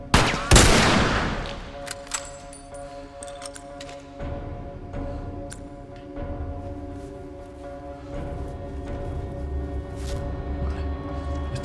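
Rifle gunfire in The Last of Us, starting with a loud close burst of shots, then scattered fainter shots over ringing tones and ambient game sound.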